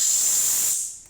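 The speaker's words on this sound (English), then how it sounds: "we have steam, and we have hot water" Steam wand of a Pasquini Livia 90 espresso machine releasing a loud, steady hiss just after a full service and tune-up, tapering off toward the end.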